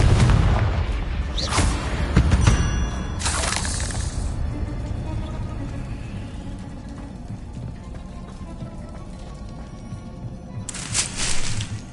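Confringo explosive spell in the Hogwarts Legacy video game, a few booming blasts with shattering bursts and fading rumble between them, loud, with no talk.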